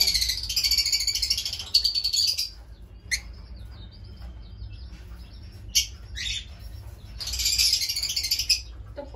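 Lovebirds in a colony chirping in bursts of high, shrill twittering, with quieter calls and short chirps between them over a soft low background hum, fairly close, no talk.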